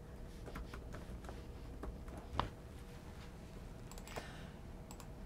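Someone typing a folder name on a computer keyboard, a quiet run of light key clicks close by over a steady background hum, with one sharper tap partway through.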